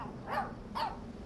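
A dog outdoors gives two short, clear barks about half a second apart, close and moderately loud, with no voices.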